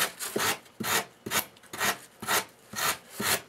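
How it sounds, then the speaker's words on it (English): Hand rasp working the sharp edges of a wooden piece for a model railroad's upper level, seven steady back-and-forth strokes in an even rhythm, close and clear with no talk. "Just rasp that down. Round off the edges."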